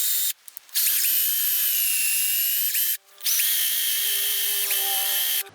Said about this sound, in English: Well, my drill bit's a little dull. I might have to go sharpen it.